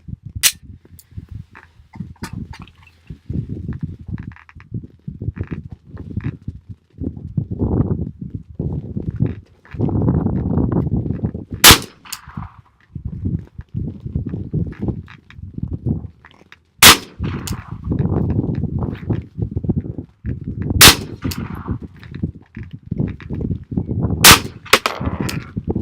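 About five sharp gunshots from reloaded 9mm rounds crack out at irregular intervals several seconds apart, outdoors amid steady gusting wind noise.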